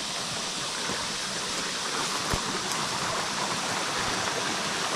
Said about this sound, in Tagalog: Pero ngayon pa lang narinig mo na yung nagasan ng tubig.